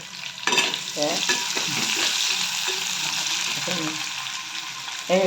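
Onion frying in a pan for potato poha produces a loud, even sizzle close by, with scattered scraping knocks from stirring.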